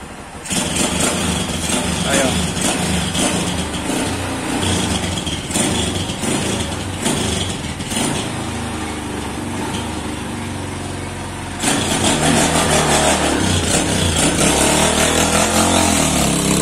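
A 2008 Honda Titan 150 motorcycle fitted with a 160 engine runs loud and steady as it rides off and comes back along the street, the engine note swelling again near the end.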